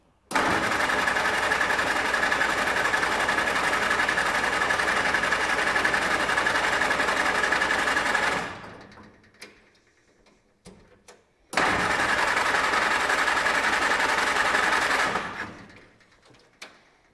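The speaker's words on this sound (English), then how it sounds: "let's turn the key and see if this thing pumps gas and starts running" A Willys Flatfender jeep engine cranks and catches, running at a steady loud idle for about eight seconds, stops, then starts again and runs a few more seconds before cutting off.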